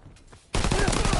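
Dense, loud bursts of gunfire from a WW2 shooter game, with Tommy guns and machine pistols, cut in abruptly after a quieter opening and roar on continuously to the end of the short clip.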